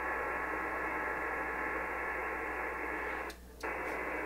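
Steady HF radio data modem signal carrying Winlink email, a dense continuous warble of tones over static hiss that runs almost unbroken, with one brief gap near the end before the transmission resumes.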